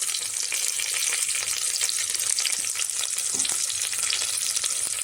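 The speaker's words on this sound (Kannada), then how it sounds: "ಸ್ವಲ್ಪ ಈರುಳ್ಳಿ ಹಾಕ್ತೀನಿ. ಇದೆಲ್ಲ ಸ್ವಲ್ಪ ಫ್ರೈ ಆಗಿದೆ." Onions fry in oil in a pan, giving a steady, bright hiss of sizzling with scattered crackles, close and continuous, with no voices.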